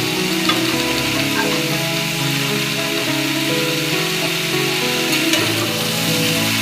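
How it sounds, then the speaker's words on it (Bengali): Drumstick stems fry with mixed vegetables in a pan for a vegetarian curry with jackfruit seeds, giving a continuous dense sizzle and crackle close by, with no talk. "ডাঁটাটাও সবজির সাথে ভেজে নিচ্ছি।"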